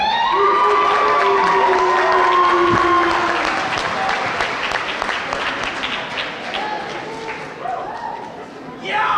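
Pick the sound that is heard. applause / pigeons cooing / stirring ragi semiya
applause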